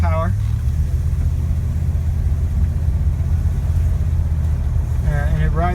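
A 1966 Oldsmobile Toronado's engine drones steadily while driving, a loud, constant low rumble with brief bursts of talk at the start and end.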